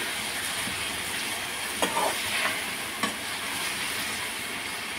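Tomatoes sizzle in a hot pan for an egg tomato curry, a steady close frying hiss with a few sharp stirring scrapes and clinks, no talking.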